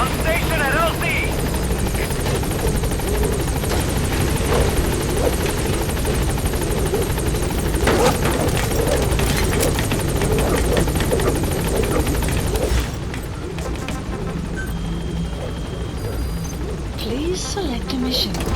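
A support helicopter arriving at a landing zone in Metal Gear Solid V, with a loud, steady rotor thump and engine roar that drops off slightly near the end.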